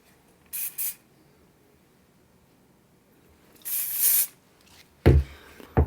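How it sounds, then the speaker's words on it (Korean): Hair spray sprayed at the roots of hair in three short hissing bursts separated by quiet pauses, the last one sharper and closer, with no speech. "안쪽에다가 뿌리 쪽에다가 스프레이를 뿌려주면 뿌리 볼륨이 더 오래 잡히거든요"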